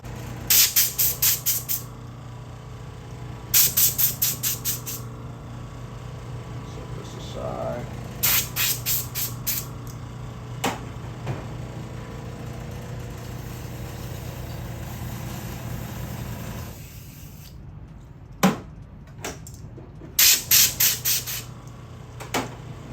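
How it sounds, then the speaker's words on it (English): Short bursts of compressed air from an air hose blow out a hair clipper, hissing in repeated quick pulses over a steady low hum, with a longer quiet stretch before a few more sharp blasts. "Use my air hose."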